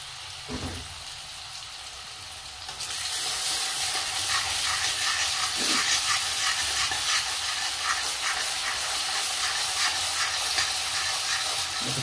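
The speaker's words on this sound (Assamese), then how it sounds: "এতিয়া সেই পেষ্ট কৰা পিঁয়াজখিনি আমি ইয়াতে দি কেনে অলপ ভাজি লওঁ" Onion paste sizzling and frying in hot oil for chicken cooking, a quiet start followed by a steady loud hiss with occasional stirring scrapes, no talk.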